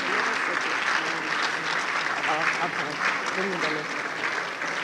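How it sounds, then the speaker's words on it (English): Sustained applause from a conference audience at an e-learning event, a steady dense wash of clapping that holds at an even level for the whole stretch, with faint voices mixed underneath. "What we can do is to just applaud them"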